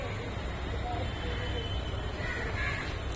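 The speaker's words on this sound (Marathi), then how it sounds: "पक्षी मला वाटते आपापल्या घरट्यात चाललेले आहेत त्याच्यामुळे पक्ष्यांची किलबिलट पण चालू आहे" Birds call faintly at dusk around seven in the evening as light rain falls, with a crow cawing among scattered thin calls over a soft, constant background hiss.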